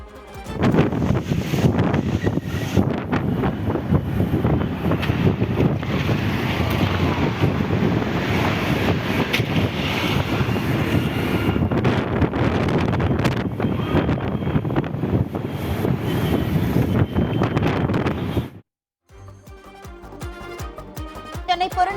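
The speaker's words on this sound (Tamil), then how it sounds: "திடீரென காற்றுடன் கூடிய கனமழை பெய்தது" Strong gusting wind buffets the microphone with a roaring wash like heavy rain, sustained loud for most of the stretch before cutting off abruptly near the end, followed by a brief quieter sound.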